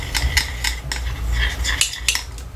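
A spoon clinks and scrapes rhythmically against a bowl while stirring a shampoo soap mixture, with repeated sharp metallic taps close by.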